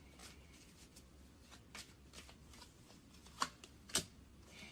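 Tarot cards are shuffled and drawn: quiet riffling and sliding, close and soft, with two sharper snapping flicks near the end as cards are pulled from the deck.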